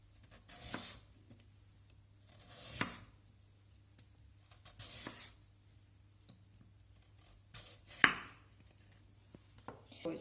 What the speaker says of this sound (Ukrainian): Зараз ми будемо нарізати картоплю формою соломки.